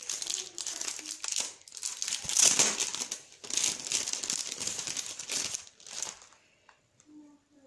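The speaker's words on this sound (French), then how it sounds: "Moi, je vais le déballer pour qu'on voit mieux." Crinkly packaging being unwrapped from a February seaside-themed craft box with ribbon and lace, close rustling and crackling in bursts with brief pauses, dying down to quiet at the end.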